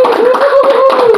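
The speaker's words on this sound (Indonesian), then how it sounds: "Tepuk tangan dulu dong." An audience claps its hands at a live talk-show event, brief dense applause alongside a sustained tonal hum.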